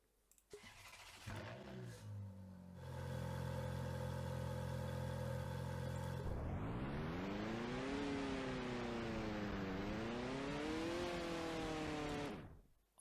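A Ferrari sports car engine in the video game Driving Empire starts, idles with a steady hum, then revs up and down loudly, close and alone.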